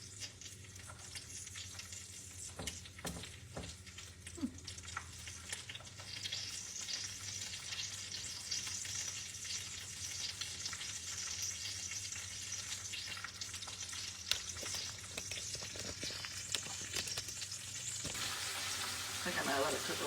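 Sesame-crusted tuna sears in a hot pan with a continuous soft sizzle and crackle, quiet and close, with occasional light scrapes and a brightening hiss toward the end.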